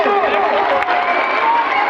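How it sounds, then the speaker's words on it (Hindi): A crowd at a school kabaddi final roars with sustained applause and cheering, a dense, steady wash of clapping and shouting voices that holds throughout without a break. "शानदार तालियां, जिंदा कौमों की तरह तालियां बजाओ"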